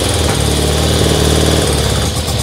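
A small engine idling steadily after refuelling, a loud, even mid-pitched drone with a fast regular pulse running throughout without pause.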